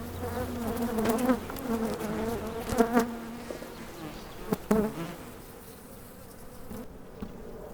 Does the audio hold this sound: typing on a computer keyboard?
no